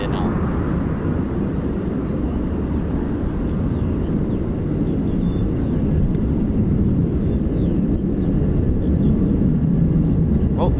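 Military aircraft, including heavy transports and tilt-rotors, at an RAF air base, with engines at full takeoff thrust giving a loud, steady, broadband roar that holds throughout, with faint talk in the background.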